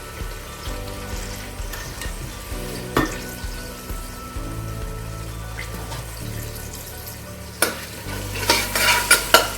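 Onions fry in a pan as ginger garlic paste is added, a continuous sizzle with repeated scraping stirs and clinks, rising to louder bursts of sizzling toward the end.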